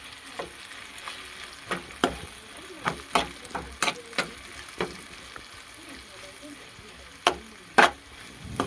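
Kantola (spiny gourd) sabzi frying in oil with red chilli, stirred with a spoon that clinks and scrapes the pan in irregular taps over a steady low sizzle.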